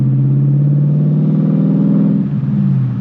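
A 2019 Ford Mustang GT V8 running after being turned back on, a loud, steady low rumble with a mild rise in revs near the end, close by and continuous throughout.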